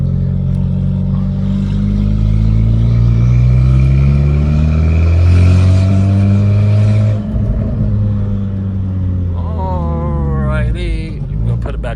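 Honda Civic Type R engine accelerating in third gear, a loud close interior drone rising steadily in pitch, then dropping briefly as it eases off, with a voice speaking near the end.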